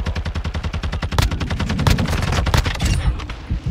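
Rapid bursts of automatic gunfire and single shots crackle continuously through a shootout in Call of Duty MWII, loud and close, with barely a pause across the whole stretch.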